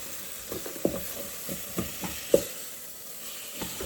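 Meat frying in a rice cooker left on warm, a soft steady sizzle with scattered pops and small stirring clicks, close and fairly quiet with no talking.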